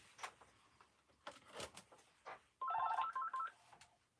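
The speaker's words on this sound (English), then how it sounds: "Now the phone rings." A telephone rings in a room during a slot car session, a brief electronic warbling ring burst heard fairly clearly after some faint clattering and rustling, with no talk.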